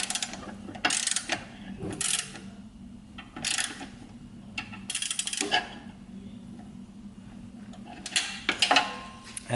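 A ratchet tightens front splitter bolts on a Honda S2000, sounding as bursts of quick metallic clicking separated by pauses, fairly faint and close.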